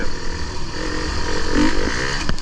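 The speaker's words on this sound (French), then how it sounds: "En plus j'ai une moto qui fait du bruit" An enduro motorcycle engine runs loud and close, a continuous rough drone with slight rises in revs and no talking over it.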